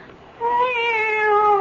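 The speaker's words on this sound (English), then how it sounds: "It's the cat. She's back." A cat meows in an audio drama, one drawn-out, tonal meow rising in from quiet and holding steady, close and clear with no talk over it.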